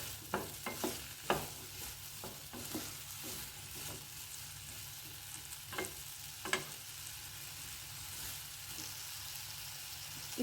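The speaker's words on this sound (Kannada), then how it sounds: "ಆಗಾಗ ನಾವು ಸೌಟ್ ಆಡಿಸ್ತಾ ಇದ್ದರೆ ಚೆನ್ನಾಗಿ ಫ್ರೈ ಆಗುತ್ತೆ" A ladle stirs frying food in a heavy-bottomed pot for a festive Brahmin feast. A steady low sizzle runs throughout, broken by irregular scraping clacks of the ladle, with no talking.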